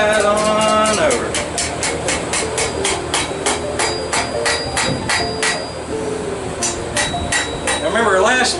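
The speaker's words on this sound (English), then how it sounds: "We're just going to put her on the anvil and tap her right on over." A hammer strikes hot steel on an anvil while a blacksmith forges a horn, producing loud, ringing metallic blows in a steady rapid rhythm close by, about twenty strikes with a brief pause, over a low background roar.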